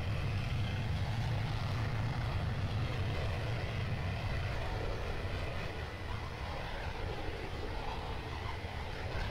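A jet airliner styled as a Boeing 727 in the Rigs of Rods driving simulator drones with a steady, fairly quiet engine roar that holds evenly throughout, with no one talking.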